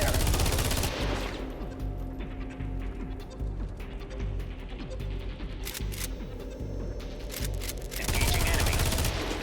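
Repeated bursts of gunfire ring out in the USC: Counterforce video game, with rapid clusters of shots over a bed of game ambience, louder at the start and end.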